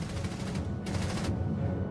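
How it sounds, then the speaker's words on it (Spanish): A World War II MG-42 machine gun fires long, dense bursts, a loud, continuous rattle of rapid shots with no pauses between rounds. "La MG-42 es probablemente la mejor ametralladora de la Segunda Guerra Mundial."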